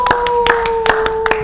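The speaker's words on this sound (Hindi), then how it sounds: "एक बार जोरदार ताली हो जाए पूरी टीम के लिए" Applause for a film team at an interview session, a handful of distinct claps in an uneven rhythm over a steady electronic hum, close and fairly loud.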